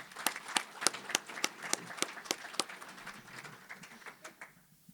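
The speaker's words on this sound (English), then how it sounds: "A round of applause for Llew," Applause from a small audience for a speaker at a panel on Montana's tax structure, with sharp scattered claps that thin out and fade to quiet by the end.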